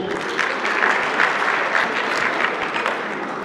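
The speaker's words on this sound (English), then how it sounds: "Let's give you all a round of applause." Applause from the audience for netball players and coaches at a school netball championship closing function and awards ceremony, a steady, dense patter of many hands clapping throughout, fairly loud and even.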